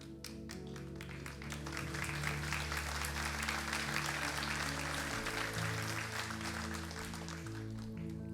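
A church congregation claps together in sustained, dense applause over a backdrop of sustained organ-like music chords, steady and moderately loud throughout.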